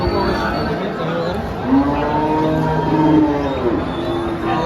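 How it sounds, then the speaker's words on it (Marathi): Cows at a busy cattle market in Dhule, a drawn-out low moo rising and falling over a background of crowd chatter and voices. "देवीदास चव्हाण यांनी पण गाई आणलेली आहे"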